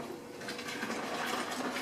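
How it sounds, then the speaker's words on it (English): Cold water pours steadily into a homebrew beer fermenter, a continuous close rushing splash with no talk over it. "So I can carry on and put some more cold water into the fermenter,"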